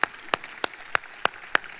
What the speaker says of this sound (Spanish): Largue ese aplauso, hermana.